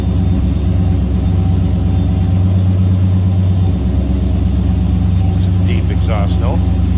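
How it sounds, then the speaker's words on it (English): A 1963 Ford Galaxie 500 two-door hardtop idles from behind, its deep exhaust rumble steady and loud throughout, with someone talking faintly near the end. "Slip around to the back. You get an idea how it sounds."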